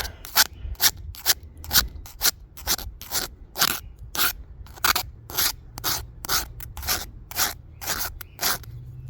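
Repeated rasping strokes of a chainsaw chain file scraping metal, a steady rhythm of short harsh bursts, close and continuous with no talking.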